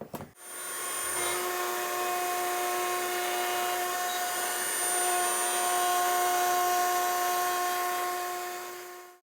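A router cuts a truss rod slot 9mm deep into a rosewood Telecaster neck, a steady high whining drone that holds loud and constant throughout, with no talking.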